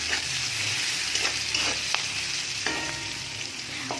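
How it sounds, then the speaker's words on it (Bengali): Two medium-sized onions frying over high heat in a pan, a steady close sizzle with occasional sharp stirring scrapes and clicks, no voices. "পেঁয়াজগুলোকে একটু নরম করে ভাজবো।"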